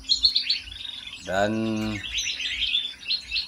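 A blue-crowned hanging parrot (serindit) in an aviary gives rapid high chirps, broken by a sustained harmonic call in the middle, with a brief word of speech near the start.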